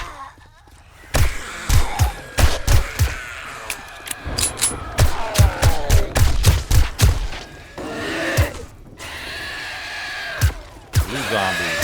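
Automatic weapon gunfire in the video game 7 Days to Die during a horde night fight through a wasteland city: loud, sharp shots in uneven bursts and clusters, with short pauses between volleys and faint background game noise.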